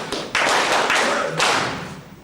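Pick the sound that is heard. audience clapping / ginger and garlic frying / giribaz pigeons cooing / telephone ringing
audience clapping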